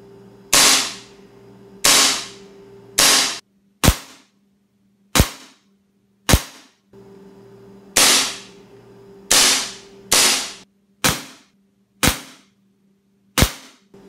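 SRC SR1911 airsoft pistol firing at outdoor targets: about a dozen sharp, close, loud cracks at uneven intervals, each with a short decaying tail, with a low steady hum underneath and no talking.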